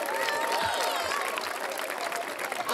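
A church youth summer camp audience in Cormòns applauds at an opening-night event, dense clapping and crowd noise with voices blended in, sustained at an even level.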